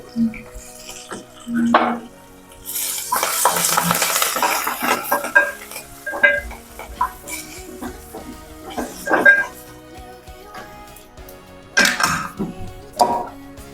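Dried red chillies, curry leaves and asafoetida sizzle in hot oil for a tempering, with a crackling fry broken by spoon stirring and scrapes and clinks against the pan.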